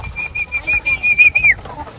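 A single clear, wavering whistle-like call near a pigeon loft trapdoor, held for about a second and a half before sliding down, over faint low background rumble.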